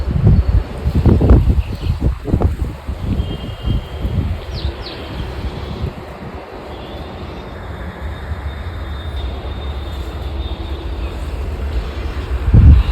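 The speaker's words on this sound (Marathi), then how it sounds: "आणि टॉचच्याच आहे जसं जोरात असं वारं सुटलेलं आहे बघताय." Strong wind blows outdoors by a mango tree, rushing and buffeting loudly against the microphone in gusts, with rustling leaves and a faint bird chirp in the background.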